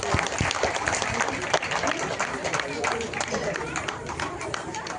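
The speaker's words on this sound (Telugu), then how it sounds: "సో వాళ్ళందరికీ గట్టిగా క్లాప్స్ కొట్టండి." Audience at a Krishna Leela dance program clapping for the dancers, a dense steady wash of applause with crowd chatter mixed in throughout.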